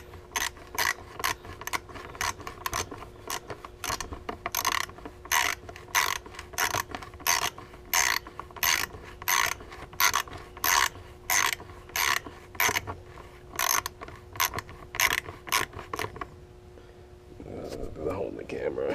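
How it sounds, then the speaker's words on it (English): A ratchet is worked on a Honda lawnmower, giving rapid, regular clicking bursts in a steady rhythm close up, pausing near the end as a low mechanical hum takes over. "I take the ratchet like this."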